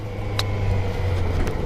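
A 2022 Qjmotor 600RR motorcycle engine runs smoothly, giving a steady, even low drone with a couple of faint brief clicks above it and no voices.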